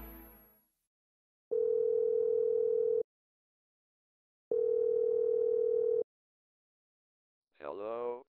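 A telephone line gives a steady single-pitch tone in two long bursts of about a second and a half each, separated by silence, with brief synthetic-sounding voice fragments at the start and end.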